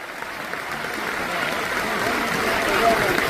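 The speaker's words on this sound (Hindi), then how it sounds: "एक बार जोरदार तालियां जाऊंगा पापा के लिए" A seminar hall audience at a business event in New Delhi claps in a broad, steady roar of applause that swells slightly over about three seconds, with crowd murmur blended in.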